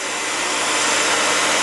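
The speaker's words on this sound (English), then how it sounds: "He's under the blow dryer," A blow dryer drying off a wet Eclectus parrot after its shower gives a loud, steady, close-up whoosh of rushing air with no breaks or talking.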